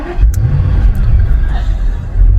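A car engine rumbles low and steady while driving, with faint road noise and a few brief clicks, close and continuous.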